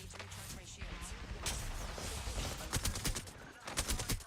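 Video game gunfire in bursts of sharp shots and rapid automatic fire, fairly close and moderately loud, mixed with background game noise and a little talk.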